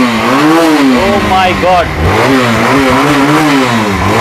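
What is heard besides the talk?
motorcycle engine revving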